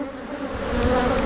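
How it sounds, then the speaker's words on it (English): Dense buzzing of many male honeybee drones crawling on a hive frame, a steady close-up drone with a brief louder buzz passing near. "All the boy bees just hang out, waiting to mate."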